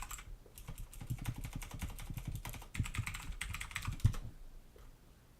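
Quick, uneven tapping of a computer keyboard as a password is typed, close and moderately loud, with short bursts of keystrokes before it stops.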